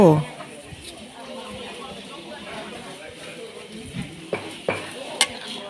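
Rice noodles are stir-fried in a pan for a traditional Thai fried noodle dish, giving a low sizzle with scraping stirs and a few sharp utensil clinks near the end. A person talks over the cooking.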